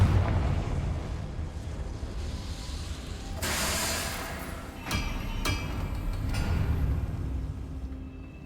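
A Confringo fire spell bursts in the Hogwarts Legacy video game, a whooshing roar flaring up mid-clip with a couple of sharp cracks afterward over a windy, rumbling background, no voices.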